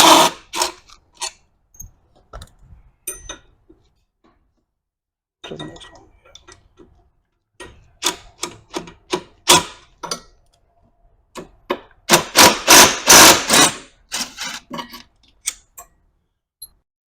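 A wrench works starter bolts loose on an ATV, making sparse metallic clicks and ratcheting taps in uneven bursts, including a dense run of quick clicks near the end, with occasional voice in between.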